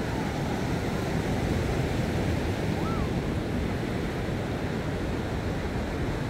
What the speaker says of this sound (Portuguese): As ondas estão lá, mas ela vem tranquila para cá.